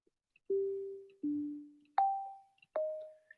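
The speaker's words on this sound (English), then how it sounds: "get these kind of ringing sounds at the output" A modular synthesizer's resonant filter, set close to self-oscillation, rings out four gentle bell-like pitched tones one after another, each with a soft decaying tail, the last two pitched higher than the first two.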